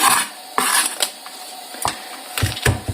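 Garlic cloves are peeled and crushed on a kitchen counter before going into olive oil, a series of sharp knocks and clacks spaced irregularly, close and crisp with no talking.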